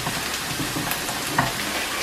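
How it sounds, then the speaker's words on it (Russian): Steady crackling sizzle of mushrooms and onions frying in a hot pan, close and continuous, with small pops and no voices. "Лук у меня уже слегка обжарился, и теперь сюда на сковородку я добавляю грибы"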